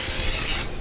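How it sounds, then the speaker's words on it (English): Canola oil cooking spray hisses from an aerosol can onto two 13x9 baking pans in a home kitchen, one steady close burst lasting over half a second and then stopping, with no talk. "I'm going to give them a spray with this canola oil"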